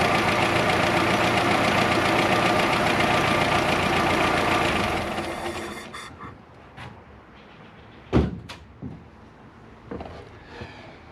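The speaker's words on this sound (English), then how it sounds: "Will This 1959 Austin Gipsy start and run on 11-year-old gas" A 1959 Austin Gipsy engine runs on 11-year-old gasoline, a loud steady idle for several seconds that then cuts off, leaving quieter mechanical clicks and knocks.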